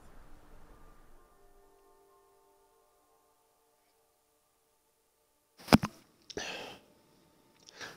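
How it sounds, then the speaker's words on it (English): A person lets out a cluster of sharp sneezes close to the microphone, roughly three bursts with short gaps, following a stretch of near silence and faint background tones. "Sorry, I had to sneeze a bunch."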